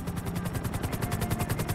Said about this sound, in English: Almost there. Get ready to exit the helicopter.